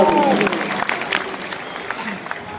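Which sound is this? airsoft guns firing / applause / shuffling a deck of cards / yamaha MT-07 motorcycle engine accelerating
applause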